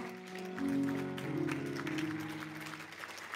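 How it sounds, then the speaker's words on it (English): A church congregation claps along through a soft, steady patter of hands, heard at a distance under sustained organ or keyboard tones. "clap your hands for the Lord"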